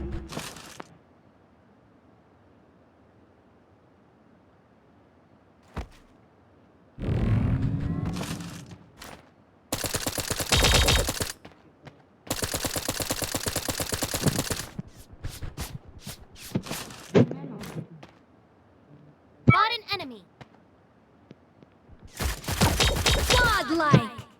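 Gunfire in the video game Sausage Man, dense bursts of rapid shots in several loud stretches separated by quieter pauses, with scattered single hits and game effects between them.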